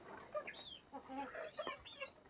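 Country chickens in a shed give soft, scattered clucks and a few higher squawks, close and fairly quiet, with no talk.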